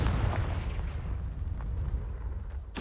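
A Confringo fire spell blasts in Hogwarts Legacy, a loud, sustained roaring rumble with a sharp burst near the end.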